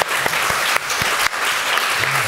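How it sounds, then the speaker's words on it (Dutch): Audience applause for speakers at a Dutch panel discussion on transgressive behaviour in gymnastics, dense steady clapping throughout with a few sharp knocks and low thumps, no voices over it. "Een hap applaus."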